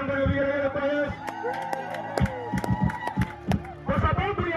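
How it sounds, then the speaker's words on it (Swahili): A church congregation cheers, claps and ululates in praise during a sermon, bursts of shouting and high trilling rising over a steady background, fairly distant and moderate in level. "Kama umeelewa piga shangwe na vigelegele kwa Yesu"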